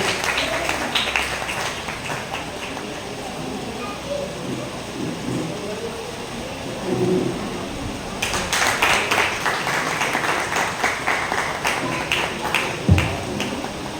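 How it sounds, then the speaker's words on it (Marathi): Audience applause at a felicitation ceremony for singer-artists, a dense rain-like patter of many hands clapping that swells and grows louder partway through, with faint voices beneath. "आपण एक जोरदार टाळ्या वाजवून त्यांचा नमन करू"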